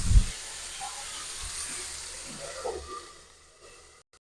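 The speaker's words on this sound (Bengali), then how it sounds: "একটু ঢাকা দিয়ে আমি 1 মিনিট মতো ঢাকা দিয়ে সেদ্ধ করে নেবো।" Salted chopped tomatoes simmering under a lid in a pan for an egg omelette curry make a soft, steady hiss and faint bubbling, fading toward the end, with a knock or two at the start.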